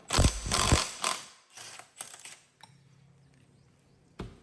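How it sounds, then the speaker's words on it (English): A ratchet wrench works the 19 mm flywheel nut on a 168F Chinese single-cylinder diesel engine, giving loud bursts of metallic clicking and clanking early on that fade into sparse, quieter knocks and a final sharp clack. "Flywheel nut is a 19 millimeter. You can do this by hand with a wrench."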